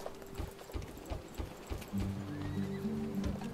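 Horses in the Rome: Total War video game neigh loudly in a sustained whinny while a series of rhythmic hoof clip-clops sounds in the foreground.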